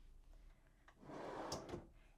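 A bed storage drawer in an RV slides out with a short, soft rolling scrape and a faint knock at the end, close by and quiet, with no talk.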